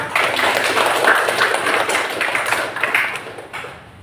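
A classroom of students claps together, a dense burst of many hands that rises quickly, holds briefly and then thins out and fades.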